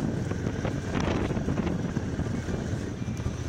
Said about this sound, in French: Une bonne grosse flaque de boue, histoire de bien rincer la moto